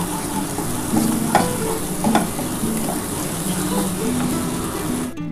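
Ground spice paste made from onion and spices is stir-fried for a bhola fish curry, giving a dense, continuous sizzle with scraping strokes of a spatula, loud and close throughout.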